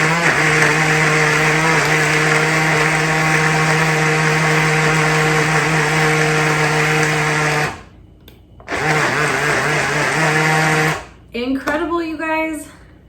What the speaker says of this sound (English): You guys heard how quiet that blend mode is.